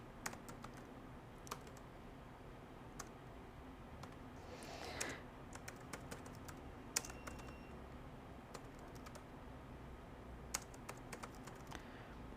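Fingers type steadily on a computer keyboard, producing close, light key clicks in irregular bursts with brief pauses, over a quiet room hush.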